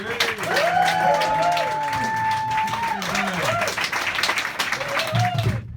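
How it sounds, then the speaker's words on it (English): A pub crowd at a stand-up comedy night claps and cheers for a comedian, a loud, sustained wash of applause with whoops and a whistle rising over it, fading out at the end. "Let's start clapping for Steve Coulson."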